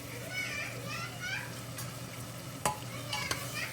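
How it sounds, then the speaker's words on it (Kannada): Ground masala paste with coriander and tomatoes frying in a pan for mushroom pulao, a steady low sizzle under a voice and talk, with a few sharp clinks of stirring near the end. "ಹಾಕಿಬಿಟ್ಟು ಇದಕ್ಕೆ ಟೊಮಾಟೋನ ಹಾಕ್ಕೊಳಕತ್ತೀನಿ."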